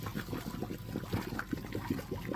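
Hot water from boiled lasagna pasta is poured from a pot into a colander in a home kitchen, a close, fairly quiet splashing trickle with irregular gurgles and drips throughout.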